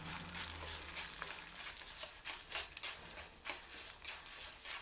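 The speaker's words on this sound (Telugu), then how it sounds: "నూనె వేడెక్కిన తర్వాత మనం తీసుకున్న మినపప్పు దోరగా వేయించుకోవాలి. కలుపుతూ ఉండాలి" Urad dal frying in hot oil while being stirred for a Nellore-style pickle, a bright continuous close sizzle with irregular crackles and utensil ticks against the pan.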